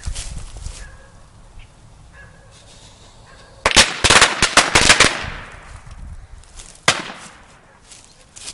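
A homemade flashbang built around a small roll of firecrackers bursts in a rapid, loud crackling string of sharp bangs lasting over a second, followed by one more pop after a short pause, with quieter outdoor background before.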